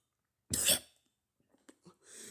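A single sharp voiced, imitated cough bursts out loudly, followed by a few faint breaths and small noises, then a rising soft hiss.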